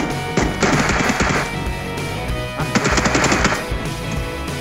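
Video game gunfire in two sustained rapid automatic bursts, loud and close, separated by a short gap.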